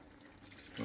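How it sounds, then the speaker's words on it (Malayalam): Water pours into a pot of Kerala-style beef curry, a short, close, steady gush of liquid that swells louder toward the end, with no voices. "ഇനി ഇതിൻ്റെ കൂട്ടത്തിൽ തന്നെ കുറച്ച് വെള്ളം കൂടി ഒഴിച്ചു കൊടുക്കണം."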